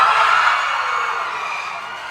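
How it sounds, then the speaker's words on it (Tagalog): A live audience in the upper seats cheers and shouts loudly, a dense, sustained roar of many voices that swells at the start and stays strong throughout. "Isang malakas na hiyawan naman dyan sa taas."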